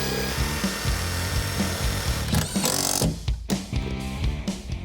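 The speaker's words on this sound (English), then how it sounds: "All I gotta do is cut a little hole out, so just gotta make the bracket." A power tool cuts a hole in a polished stainless steel bracket with loud, continuous grinding and sawing at close range. Brief pauses and rough scraping come near the end.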